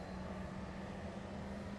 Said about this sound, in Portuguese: O trem quase sai do trilho.